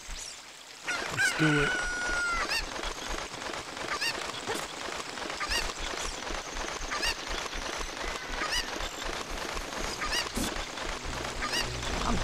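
A chicken in the video game Zelda Ocarina of Time gives a drawn-out crowing squawk, followed by rapid, dense clucking and flapping-like chatter that runs steadily throughout, with a brief spoken word near the start.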